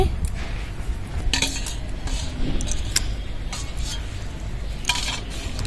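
Mustard oil heating in a wok in a home kitchen, with faint sizzling and repeated scrape-and-clink of a metal spatula stirring against the pan, steady and close.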